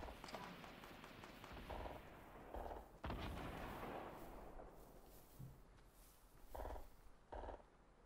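Muffled bursts of gunfire crack and thump at a distance over a steady background hiss, with a few booms scattered through.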